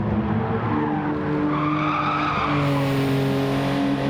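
A Toyota race car running wide on a track, engine droning steadily with tire skidding and squeal, continuous and fairly loud throughout.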